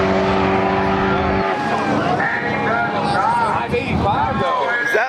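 Mazda RX-7 race cars in a close race at an ice cream cruise event, engines roaring loud and near with a rising, shifting whine as they pass, while excited voices talk and cheer over the noise.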